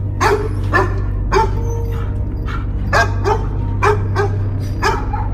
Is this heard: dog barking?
yes